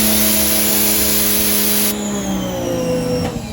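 A pressure washer with double spray tips flooding car panels, a loud steady hiss of spray over a droning motor hum, which shifts in tone partway through and continues without talk.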